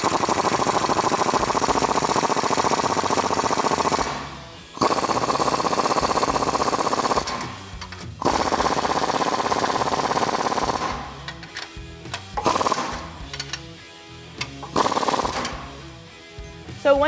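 A 19mm socket on a power tool drives a U-bolt tight on a Jeep Wrangler JK during a Teraflex suspension install, giving several long, loud rattling bursts separated by short pauses.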